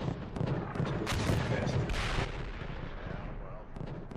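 Artillery shells impacting in a military video game, a dense roll of booming blasts at close range over the first couple of seconds fading into rumble, with voices talking over it.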